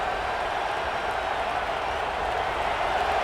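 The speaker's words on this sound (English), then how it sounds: "This crowd bringing the energy and noise early" A steady roar of stadium crowd noise in the college football video game CFB 26, loud and constant without clear peaks, from a simulated Nebraska vs UCLA game.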